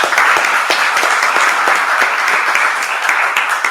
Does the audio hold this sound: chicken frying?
no